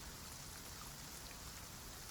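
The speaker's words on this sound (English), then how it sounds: "Just the rain on the greenhouse glass. Slow and steady and quiet." Rain patters on greenhouse glass on an evening, a steady, soft, even hiss of drops with no voices or other sounds.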